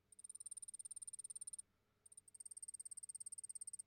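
Rapid, high-pitched cricket chirping in fast regular pulses, a brief pause, then the same steady trill resumes, fairly quiet and alone.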